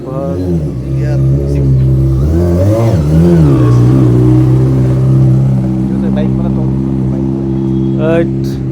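A 600cc superbike's engine idles loudly nearby on an evening street in a new residential area, revving up and down in swells over the first few seconds, with people talking over it.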